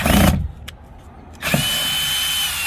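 A power drill whirs loudly as it unscrews the door speaker screws on a 2017-2022 Honda Pilot, two close bursts of motor noise separated by a short pause.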